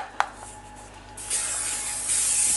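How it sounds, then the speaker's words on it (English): A can of extra virgin olive oil spray releases a loud, steady hiss into a pan, starting after a brief tap and holding close and continuous for over a second. "And then we'll just get a little bit of spray oil."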